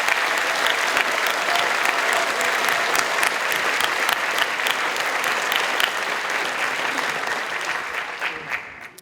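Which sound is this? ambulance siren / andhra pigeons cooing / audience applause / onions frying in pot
audience applause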